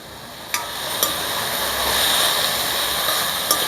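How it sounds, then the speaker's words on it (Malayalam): Bitter gourd stirred in hot oil in a pan while cooking a Kerala-style mezhukkupuratti, giving a steady frying hiss with a few sharp clicks of the spoon against the pan. "പാവയ്ക്കയിട്ട് നന്നായി ഇളക്കുക"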